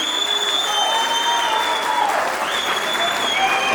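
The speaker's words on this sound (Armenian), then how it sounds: "բարձր ծափարենք" An audience applauds in a steady, continuous wash of clapping, with faint sustained tones beneath it, lasting the whole few seconds.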